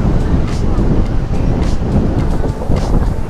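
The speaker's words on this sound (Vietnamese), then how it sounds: "Sóng rất là lớn luôn." Big waves surge at Vung Tau beach on a crowded Tet holiday, a loud continuous roar of surf heavily buffeted by wind noise on the microphone.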